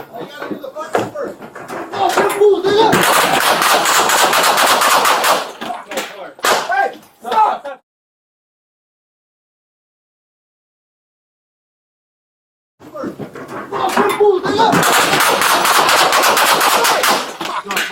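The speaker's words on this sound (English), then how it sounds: "Shots fired" Police officers fire guns during a violent confrontation, with loud rapid volleys of shots in two long bursts separated by a stretch of silence, close and harsh, mixed with sharp bangs and no clear talk heard.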